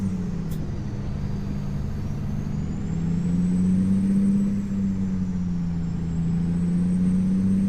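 A Peterbilt 377 truck engine drives in American Truck Simulator, a steady, loud, low diesel drone that rises and falls slightly in pitch as it runs continuously, with no talking.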